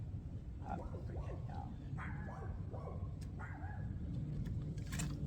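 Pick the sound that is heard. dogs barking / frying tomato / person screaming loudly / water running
dogs barking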